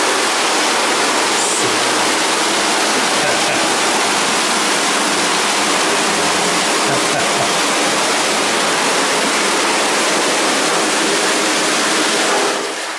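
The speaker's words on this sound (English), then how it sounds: "This is the cold water, and actually it's hot water that is being cooled down, and that's the hot water right from the ground." Hot spring water drawn straight from the ground pours steadily in a continuous, loud broadband rush, close by and uninterrupted, with no voices over it.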